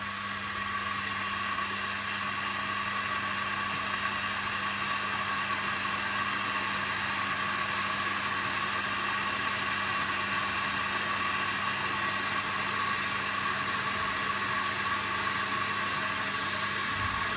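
An Aicok cordless double-walled stainless steel electric kettle heats water with a steady, close hiss and low hum, unchanging and continuous throughout, with no talking.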